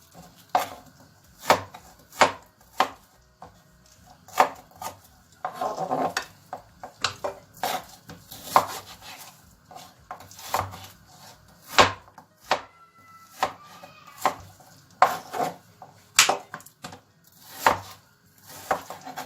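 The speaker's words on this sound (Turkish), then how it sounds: "Kuşbaşı halinde bu şekilde doğrayacağız." Regular knife chops on a cutting board as liver is cut into cubes, sharp knocks repeating at an unhurried pace, close by with some faint background noise.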